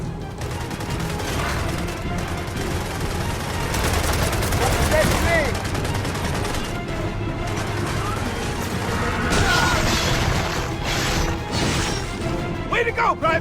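Rapid gunfire bursts from a military campaign battle in the video game Gears of War E-Day, a dense continuous barrage with crashes and mechanical clatter, with shouted voices over the fighting.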